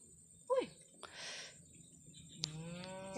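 A large cow moos outdoors, two deep drawn-out calls with a rustle between them, close and clear against quiet background with faint insects.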